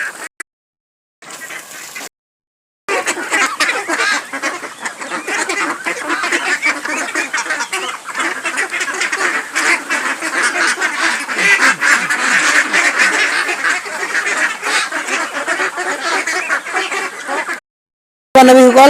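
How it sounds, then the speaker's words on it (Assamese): Ducks on a farm quack in a dense, continuous chatter as they come indoors during heavy monsoon rain, loud and close for most of the stretch after a few brief gaps. "হাঁহখিনি আকৌ মানুহ যলৈ যায় সিহঁতি লগে লগে যায়, সেইকাৰণে ইহঁতি ভিতৰলৈ সোমাই আহিলে।"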